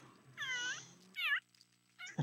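A house cat gives two drawn-out meows, then a short third cry begins; the calls are close but fairly quiet against a hushed room.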